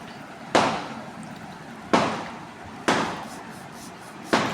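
Four sharp, booming bursts go off a second or so apart, each fading out with a rumbling tail, like firecrackers exploding at a moderate distance.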